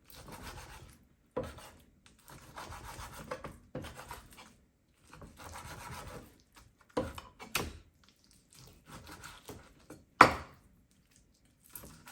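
A knife chops raw chicken for larb on a board in short bursts of thuds and rasping scrapes with pauses between, fairly quiet and close, with one sharper hit near the end.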